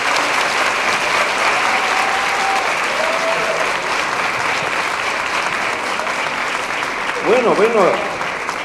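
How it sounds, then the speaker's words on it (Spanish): Loud, sustained audience applause at an international congress, a dense wash of clapping hands filling the hall, with a voice speaking briefly over it near the end. "Un aplauso muy fuerte para ella."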